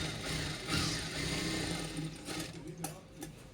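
Sewing machine stitching a blouse lining to its lower section, a continuous close motor whir and needle chatter running steadily throughout with slight swells in speed.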